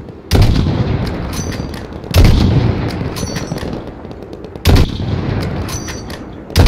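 Gunfire in Modern Warfare during a sniper mission comes as three loud, heavy bursts of rapid shots, each sharp onset trailing into a rumbling, echoing decay, with another burst starting at the very end.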